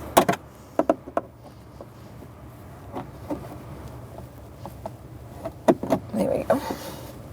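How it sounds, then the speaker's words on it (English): A few sharp plastic pops and clicks from trim clips being pried out with a trim tool on a 2013-2018 Toyota RAV4's rear interior trim. They come in scattered bursts, near and fairly loud, with quiet handling noise between. "With a trim tool, we're going to remove these two plastic clips, pop them up"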